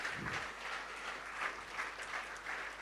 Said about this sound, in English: let the applause rain